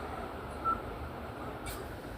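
Mobile phone keypad dialing tones, a single short beep early on against faint room noise, followed by a brief soft tap near the end.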